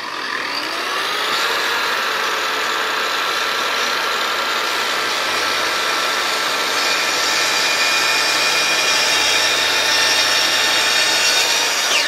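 A Kreg ASC track saw making a 45-degree bevel cut through wood, a steady loud motor whine with cutting noise running unbroken for about twelve seconds, no speech.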